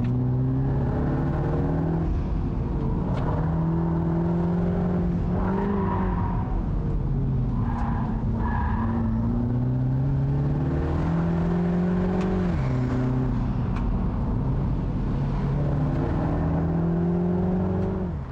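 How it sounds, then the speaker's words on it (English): A 2023 Mini Cooper S Cabriolet's engine and exhaust while driving, a steady close drone whose pitch climbs and drops through several gear changes, with no talk. "I feel that Mini has tamed the exhaust noise a little bit for the facelifted model."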